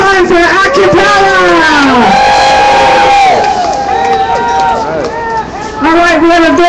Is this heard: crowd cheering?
yes